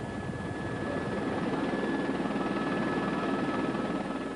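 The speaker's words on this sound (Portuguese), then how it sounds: "O helicóptero faz o reconhecimento aéreo e dá instruções ao pessoal no solo" Helicopter flying aerial reconnaissance over a wildfire, a steady whirring roar of rotor and engine that stays loud and constant throughout with no talking.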